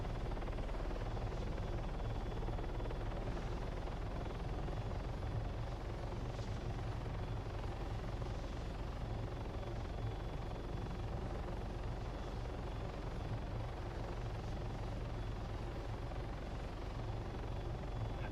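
A helicopter flies over the Livonia map in DayZ, its rotor and engine droning in a steady, continuous low throb that holds even and unbroken for the whole stretch.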